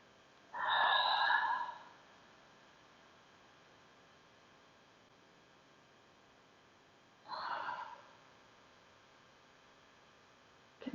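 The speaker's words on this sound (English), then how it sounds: "inhale through your nose. Exhale, gentle sigh." Two slow breaths taken in through the nose and let out as a gentle, audible sighing exhale during a yoga session, the first longer and louder, the second shorter, heard alone against quiet room hiss.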